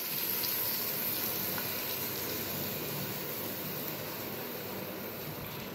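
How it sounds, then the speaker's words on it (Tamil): 200 grams of oil poured into a pot for mutton vadi biryani, already holding cloves and other whole spices: a dense, even hiss that stays level and unbroken throughout, close and fairly loud. "200 கிராம் எண்ணெய் ஊற்றிக்கோங்க"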